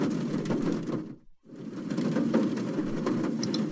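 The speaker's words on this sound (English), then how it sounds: "And now there's rain on a tin roof in the background." Video game ambience of steady rain patter on a tin roof, a continuous dense drumming with a brief dip to near-silence before it resumes, moderately loud and close.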